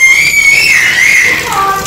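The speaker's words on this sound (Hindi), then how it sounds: "और मेरी बेटी की चीख है," A sustained, high-pitched scream from a child, loud and close, wavering in pitch for about two seconds.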